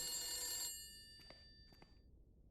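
Telephone ringing in the horror video game The Beast Inside, one bright electronic ring burst that cuts off, followed by quiet footsteps and small thuds.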